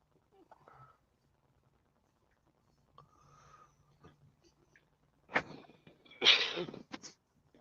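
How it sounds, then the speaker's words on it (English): A man coughs, two sharp explosive bursts close to the listener near the end, after faint scattered movement noises and a murmur of voices. "that was a cough, not a sneeze"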